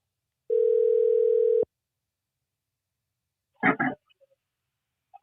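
A steady telephone dial tone sounds for about a second on an outgoing call, cuts off sharply, and after a pause a brief burst of connection or ringing noise follows, with no voices.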